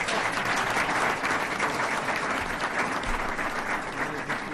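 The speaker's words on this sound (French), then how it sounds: "Les applaudissements en disent long." An audience at a Camtel press conference in the Palais des Sports de Yaoundé applauds steadily, a dense, sustained clapping of a large crowd that carries on at even loudness throughout.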